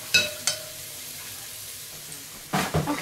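A spoon stirs homemade chicken noodle soup in a pot, giving a few sharp scrapes and clinks at the start and end with quiet simmering between, close and without talk.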